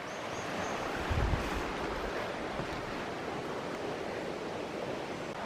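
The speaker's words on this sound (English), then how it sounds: "crossing the stream I've been following for a little bit" Steady broadband rush of flowing water, constant and unbroken, with a soft low bump near the start; no voices.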